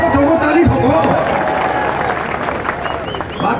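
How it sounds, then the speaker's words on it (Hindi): A crowd at a political rally claps in a dense, continuous wash while someone speaks loudly over it at the start, the applause steady and fairly close. "ठोको ठोको ताली ठोको"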